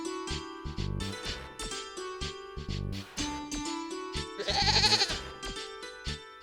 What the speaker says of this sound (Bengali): ছাগলেরা তো সারাদিন ম্যাঁ ম্যাঁ করে চিৎকার করে